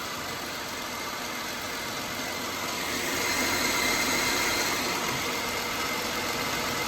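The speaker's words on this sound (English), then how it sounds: "let it come down off a cold idle" A 2016 Jeep Grand Cherokee engine idling after a cold start, a steady even hum heard close by that rises slightly partway through, with a faint high whine above it and no voices.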